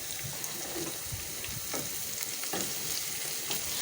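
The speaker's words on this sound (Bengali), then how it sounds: "এখন এটাকে একটু ভালো করে ভেজে নেব।" Whole spices with green and dried chillies, black cardamom and black pepper frying in hot oil in a pan, a dense continuous sizzle close up with occasional stirring scrapes, no voices.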